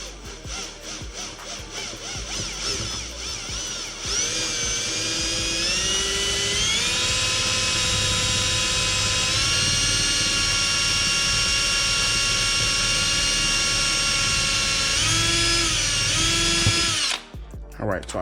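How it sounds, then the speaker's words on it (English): Power drill boring through the saddlebag of a 2020 Harley-Davidson Road Glide, a loud sustained high whine that rises in pitch as it spins up, runs steadily, then cuts off near the end. "you can feel it kind of pop through there when you're drilling"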